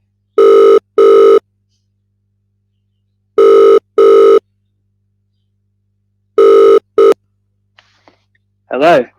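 A telephone rings in three loud double bursts with pauses between, followed by a brief click and a voice answering.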